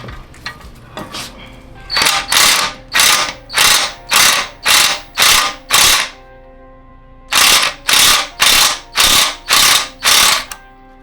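A hand ratchet clicks in rapid, loud bursts close by while backing out an O2 sensor on a car exhaust, two runs of about seven even strokes each separated by a brief pause.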